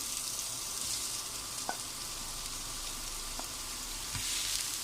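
Chopped onions frying in oil with cumin and mustard seeds for wheat dosa, a steady soft sizzle throughout with a few faint clicks of stirring, no voices.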